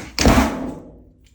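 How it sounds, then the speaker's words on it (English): A door fitted with a cylindrical lock swings shut with one solid, close thunk, followed by a short fading rattle and a faint click of the latch. "Now, what happens when I close the door?"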